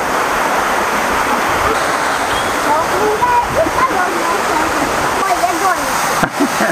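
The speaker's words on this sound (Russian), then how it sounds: "Не бойся, какой водопад там." A waterfall at Ein Gedi near the Dead Sea gives a steady, loud broadband rush of falling water that fills the clip, with voices talking over it.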